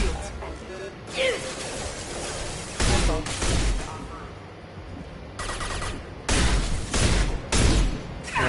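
Geth shotgun blasts in Mass Effect 2 boom in irregular heavy bursts, several close loud shots with crashing impacts and short gaps, mixed with other combat noise and game sounds.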